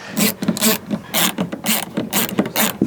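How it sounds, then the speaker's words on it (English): A hand ratchet clicks loudly and close while it loosens grab handle bolts inside a 6th-generation Ford Ranger, in quick repeated strokes of rapid clicking bursts. "So grab the same ratchet, same extension, but swap this out for the 6mm socket."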